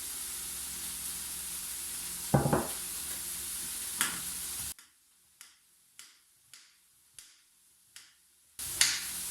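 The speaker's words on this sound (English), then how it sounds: "I'll chop up my zucchini" A knife chops zucchini on a board with a handful of crisp, evenly spaced thuds, close by, over a background of sizzling from a pan that drops out partway, leaving the cuts nearly alone.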